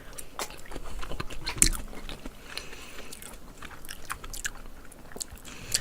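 Someone eats boiled pork bossam with garlic soy sauce, producing close, soft chewing and biting sounds. Small wet crunches and squishes repeat irregularly over a quiet background.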